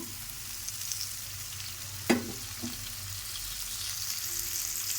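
Masala-coated pomfret fish fries in oil, giving a constant even sizzle broken by one sharp utensil knock near the middle and a softer tap after it.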